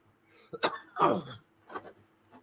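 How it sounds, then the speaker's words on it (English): A few short coughs sound close by, two stronger bursts followed by a weaker one, in an otherwise quiet space. "It's okay to cough."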